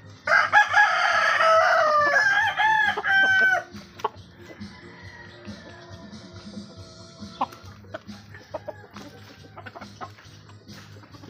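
Roosters crow loudly at close range for a few seconds while backyard chickens are being fed, followed by quieter scattered clucking and pecking sounds over a low background hum.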